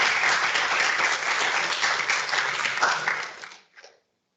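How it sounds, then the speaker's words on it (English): A lecture audience claps for a speaker, dense sustained applause that thins out and stops with a few last claps near the end. "if you can please give a round of applause to Naman"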